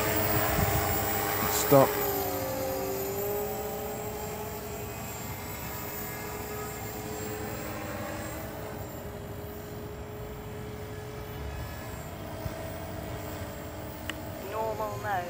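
A Walkera V450D03 RC helicopter rotor spins up during 3D inverted hover practice, its steady whine climbing in pitch with the engine-like hum holding loud and close throughout, while someone briefly speaks over it.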